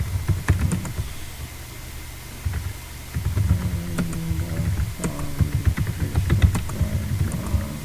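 Someone keys in a list of names on a computer keyboard, with irregular bursts of clicky keystrokes over a low, steady background hum.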